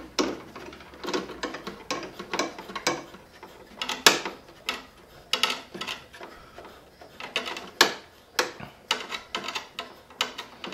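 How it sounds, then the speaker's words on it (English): Push rod being threaded into place by hand, heard as a steady series of close, light ticking clicks repeating at an uneven pace in a quiet room. "I'm going to thread it all the way till it stops here"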